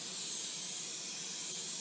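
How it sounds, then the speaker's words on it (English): Cooking spray hisses steadily as a pan on medium heat is greased, a continuous bright, airy spray held for a couple of seconds, close and fairly quiet with no talk. "pan on medium heat, and we're gonna grease the pan."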